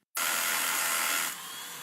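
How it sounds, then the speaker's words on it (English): A Bosch Bulldog rotary hammer drills steadily in a TV advert, a loud continuous broadband whir that starts abruptly and runs for nearly two seconds, easing slightly toward the end, with no talk over it. "Bulldog Rotary Hammer!"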